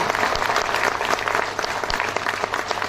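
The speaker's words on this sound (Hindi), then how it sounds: "और जोरदार तालियां बजाएं।" Seminar audience in a Haryana Tourism hotel meeting room claps in loud, steady applause, dense and continuous, with a faint voice underneath.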